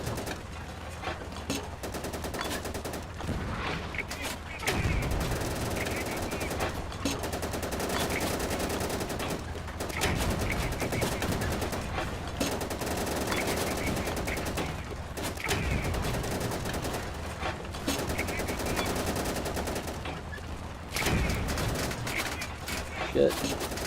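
Gunfire rattles almost without pause in the Easy Red 2 game's France 1940 battle, dense bursts of rifle and machine-gun shots crackling loud and close, one after another.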